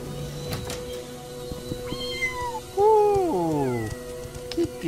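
Several cats meow in the Morrowind video game, a run of rising and falling mewing calls that grows louder midway, close and clear over a steady game background.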